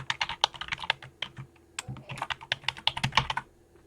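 Fingers type an IBM i username and password on a computer keyboard, a close, quick run of crisp key clicks with a brief pause partway through.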